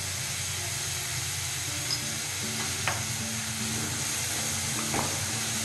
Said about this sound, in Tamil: இந்த வெங்காயம் நல்லா பச்சை வாசனை போக வதங்கி வரணும்.